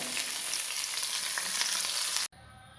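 Bitter gourd sizzles briskly in hot coconut oil, a loud, close, even crackle with faint pops that runs for a couple of seconds and then cuts off abruptly to a quiet room tone.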